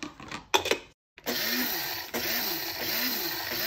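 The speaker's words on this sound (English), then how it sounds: "So I'm going to just grind it up slightly and then add it to my mix." Whole spices, partly in stick form, are ground coarsely in an electric grinder, giving a short close mechanical whir with a rhythmic rattling pulse after a few brief knocks and a pause.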